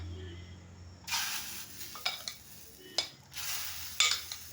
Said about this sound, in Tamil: நம்ம இதை மிக்ஸ் பண்ணி வச்சுருக்க இந்த எக்கை வந்து நம்ம இதை சேர்த்துக்கலாம்.